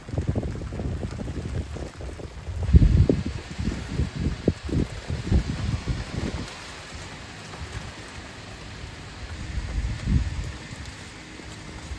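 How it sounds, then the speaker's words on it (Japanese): Rain falls at night around a Japanese yatai ramen street stall, a steady close patter with heavier bursts of dripping in the first half, then a softer, even hiss. "今日の雨ってもうずっとこんな感じかな。"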